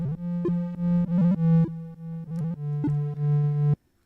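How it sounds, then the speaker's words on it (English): A procedurally generated Pico-8 chiptune melody part: a bright, buzzy square-ish tone stepping through short motifs in a quick, even rhythm, held notes broken by rapid blips, loud and clean with no voice, ending abruptly. "a melody part with all the different motifs stuck together will sound like this."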